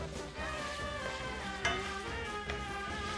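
Radishes and greens sizzle softly in butter with onion and garlic, a faint steady frying hiss with light stirring scrapes and small clinks of the pan.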